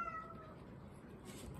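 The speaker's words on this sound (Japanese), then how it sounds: "とりあえず子猫たちが食べてます" Kittens meow at feeding time, a thin high cry near the start that fades, over a steady low background murmur.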